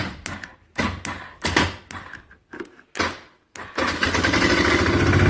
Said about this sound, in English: Let's go over here with the starter and grind it out, because our starter solenoid is no good.